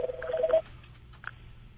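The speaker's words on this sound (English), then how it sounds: "The phone's ringing." A telephone rings in a radio studio during a call-in show, giving one brief electronic tone burst up close and then falling quiet.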